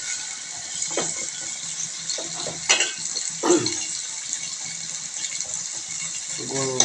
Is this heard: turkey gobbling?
no